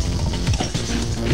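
Gun reloading in the Xbox video game Breakdown, a brief loud mechanical ratcheting clack of the weapon being worked, heard alone.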